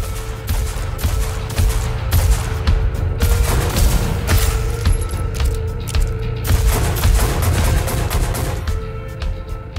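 Dense, loud gunfire from the shooter game Metal: Hellsinger, rapid shots and booms blending over a thumping low-end backdrop, continuous throughout.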